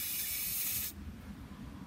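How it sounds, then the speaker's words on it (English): A loud, steady spray from an aerosol can of Flex Seal into a hole and onto rebar hisses for just under a second, then cuts off abruptly, leaving quiet background noise. "I like to spray a little Flex Seal in the hole and on the bar"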